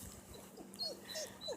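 A dog on a leash whimpers in a few thin, high whines, faint and brief, over a soft outdoor background with no speech.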